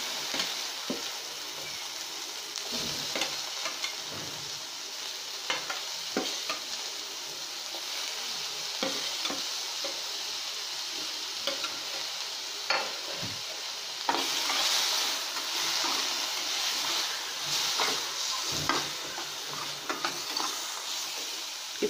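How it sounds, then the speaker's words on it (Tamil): Chopped onions, tomatoes, green chillies and cumin sauté with coconut oil in a pan for a Kerala coconut-milk fish curry, giving a steady close sizzle with scraping stirs throughout and no talking. "இப்போ இந்த வெங்காயமும் தக்காளியும் பச்சை மிளகாவும் ஜீரகமும் எல்லாமே தேங்காய் ஊற்றி நல்லா நான் வணக்கி எடுத்துட்டேன்"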